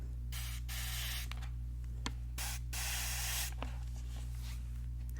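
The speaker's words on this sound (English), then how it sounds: "let me spray some remover, scent remover" Several sharp hissing bursts from a spray bottle of scent remover, close by, each lasting about a second, with a steady low hum underneath.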